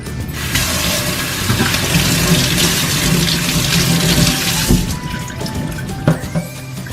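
Running tap water pours steadily over the brush roll of a Bissell CrossWave wet-dry floor and carpet cleaner, a loud close splashing rush that keeps going for several seconds with no talking.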